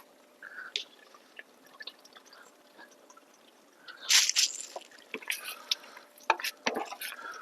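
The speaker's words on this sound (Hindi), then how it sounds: "और थोड़ी सी हम इसमें डालेंगे क्रीम भी।" Cream being added to a pot of mutton handi, a desi village-style dish, giving soft wet drips and squishy plops that grow louder and busier in the second half, with short liquid splats near the end.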